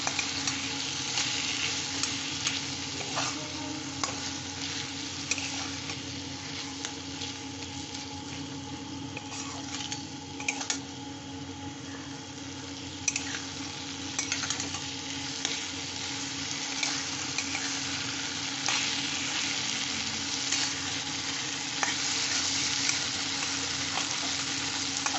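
Shrimp and finely chopped potato stir-fry in a hot pan, giving a steady, close sizzle with occasional stirring scrapes that runs without a break for the whole stretch.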